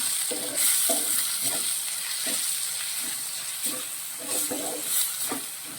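Chili powder and masala roast in a pan with oil, a continuous close sizzle and hiss broken by rhythmic scraping stirs, with no one speaking.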